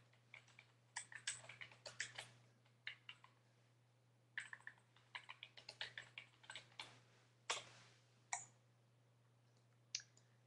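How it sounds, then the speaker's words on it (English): Typing on a computer keyboard in quick clusters of light, close key clicks separated by short pauses and a few single louder taps, over a low steady hum in an otherwise quiet room. "So I'm going to type this for you."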